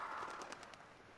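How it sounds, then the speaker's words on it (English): Pigeons coo softly, a few quiet, rounded calls rising and falling in a short burst before fading into faint background noise. "Look at all the birds."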